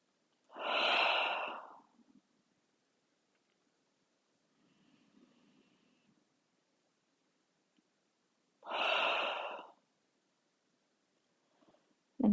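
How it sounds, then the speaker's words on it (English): Audible breaths during a side plank yoga session: two long, close nasal or mouth exhales several seconds apart, with a faint softer breath between them and quiet pauses otherwise. "continue breathing however you need to, whether it's in and out through your nose or your mouth"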